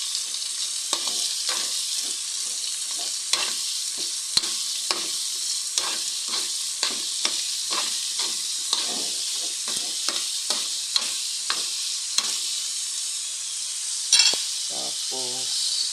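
Baguio beans stir-fried in a pan, with a steady bright sizzle and repeated clicks and scrapes of a utensil stirring, plus a louder clatter near the end; no voices.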